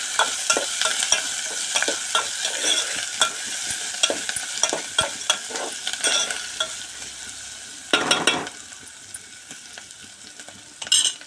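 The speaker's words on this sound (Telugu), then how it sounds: "కరివేపాకు కూడా వేసుకోవాలి వేసుకొని మంచిగా వేగనివ్వాలి" Curry leaves frying in a pan for khichdi, a bright crackling sizzle with frequent sharp pops and a few louder bursts as a spoon stirs, close and steady throughout, with no voices.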